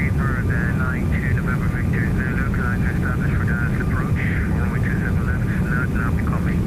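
A Toliss Airbus A340-600 climbing out of Heathrow in X-Plane 12 produces a steady, loud engine drone with a constant low rumble, while someone talks over it throughout.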